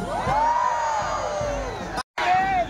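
A dense pilgrimage crowd at the Our Lady of Salambao shrine yells and cheers in loud waves of whoops and shouts, dropping out briefly and then resuming.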